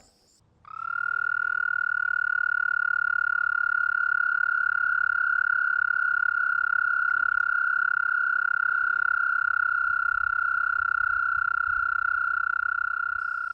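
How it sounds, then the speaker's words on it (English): A male toad's steady, high-pitched trilling mating call rings out without pause for over ten seconds by a pond, loud and close, with faint background noise beneath. "that's the male toad making that sound, which apparently is irresistible to the female"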